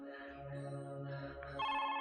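A melodic phone ringtone plays steadily over a low background hum, brightening and growing a little louder near the end.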